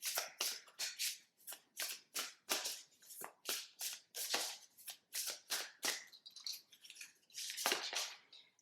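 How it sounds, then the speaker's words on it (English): Oracle cards are shuffled by hand in quick, crisp riffling bursts, close up and alone, each flurry separated by short pauses. "Let's pull some oracle cards."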